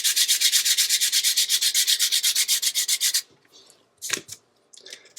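Cured epoxy on a stone countertop being sanded by hand with sandpaper, a loud, steady rhythmic rasp of quick back-and-forth strokes for about three seconds, then a few faint scrapes and brushing sounds.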